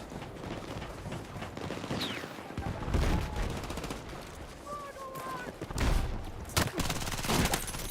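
Gunfire in a Battlefield 6 match: dense, continuous shots and bursts roll through the whole stretch, with heavier booming hits around the middle and later, amid busy battlefield noise.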